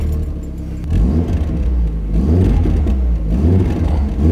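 Audi TT Mk1 with 200 hp, engine rumbling at idle and then blipped in a few short rev bursts, close and fairly loud, with no one talking.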